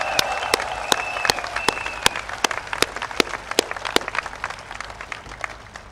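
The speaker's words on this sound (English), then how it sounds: "We should give Mr. Xia a big round of applause." Rally crowd at a Workers' Party election rally in Hougang clapping in a steady, evenly spaced rhythm, with a few voices over the first half and the claps continuing throughout.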